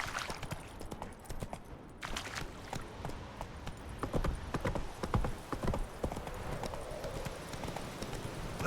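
In The Witcher 3, the horse Roach gallops with rapid, rhythmic hoof clip-clops, close and continuous, with a few heavier thuds midway and a faint rider's voice now and then.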